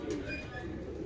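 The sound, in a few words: Sialkoti female pigeon cooing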